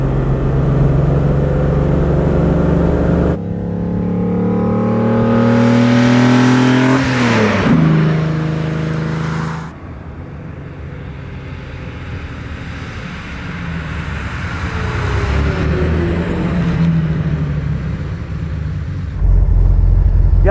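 A 1956 Mercedes 300 SL Gullwing with sidepipes and Rudge wheels roars loudly nearby, revving up through rising gears, dropping off, then building again to a sustained thunderous drone.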